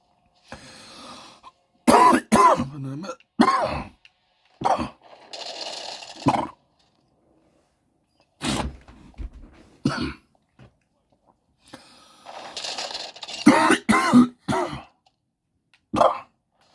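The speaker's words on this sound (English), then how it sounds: "Even though I'm coughing" A man coughs repeatedly in rough, hacking bursts with some throat clearing, loud and close, spread across the whole stretch with short pauses between fits.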